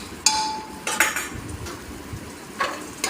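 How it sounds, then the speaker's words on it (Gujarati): Metal spoon stirring masala spices (turmeric, coriander-cumin, red chilli) in a cooking pan, with a few sharp clinks and scrapes against the metal, close and fairly loud, no talking. "હવે સરસ હલાવી લેવાનું."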